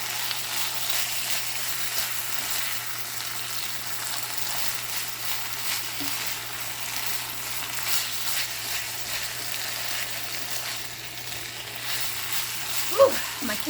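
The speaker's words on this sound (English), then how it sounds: "Can you hear that frying pan?" Noodles with yakisoba sauce frying in a hot pan, a steady close crackling sizzle that runs without a break, with a low hum beneath and a single brief clink near the end.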